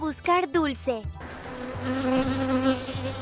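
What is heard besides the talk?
bee buzzing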